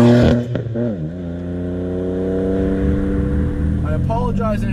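A turbocharged BMW E30 M3 with a 550 hp engine revs up close, its deep exhaust note climbing and then holding a strong steady drone as the car pulls away.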